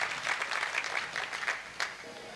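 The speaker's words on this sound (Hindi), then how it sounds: "आपको ताली बजानी चाहिए इन लोगों के लिए" An audience claps at a Jain community gathering, the Ahor Jain Sangh conference, with dense, steady applause that swells and dips briefly throughout.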